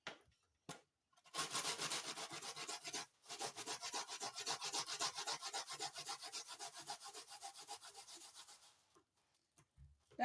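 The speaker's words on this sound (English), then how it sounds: "So this is my grater that I'm going to use to grate it." Cocoyam for ekpang nkukwo is rubbed over a hand grater in quick, rhythmic scraping strokes, quiet and close, with short pauses between runs.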